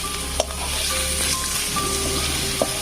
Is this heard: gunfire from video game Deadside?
no